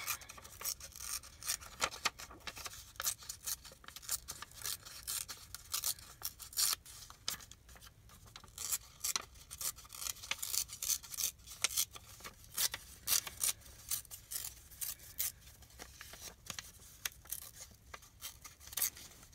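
Paper torn by hand while making a small handmade journal, a long run of brief crisp rips and rustles repeating close up for almost twenty seconds, with no voice over it.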